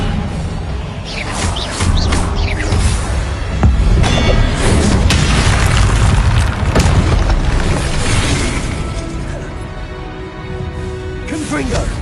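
Confringo blast spells burst repeatedly in the Hogwarts Legacy video game, loud booming explosions with whooshes that crowd the whole stretch, mixed with other spell effects and a voice shouting spell names.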